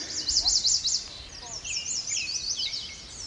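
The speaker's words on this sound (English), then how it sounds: "I heard a downy woodpecker," Downy woodpecker calls in a summer chorus of songbirds, with bright, repeated high trills and chirps carrying clearly over soft outdoor background noise.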